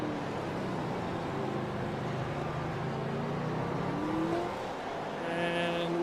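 Race cars circling the Hockenheim track in a sim racing game, engines droning steadily at a distance with a rising whine and faint tire noise near the end, no voices over it.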